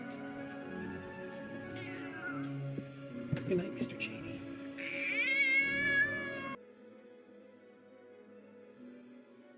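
A cat meows and yowls in distress at a werewolf in a film scene, with drawn-out, rising cries over a layer of movie sound and a line of dialogue before the scene goes quiet.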